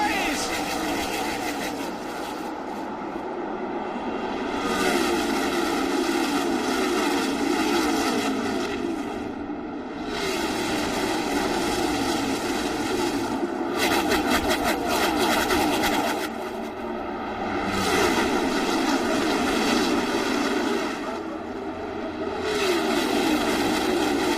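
Massed NASCAR Sprint Cup stock car engines roar at the race start in Texas, a loud sustained drone that swells and dips as the pack passes, with crowd noise and commentary underneath.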